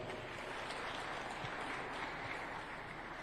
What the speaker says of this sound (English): Another round of applause for our Honorable Professor.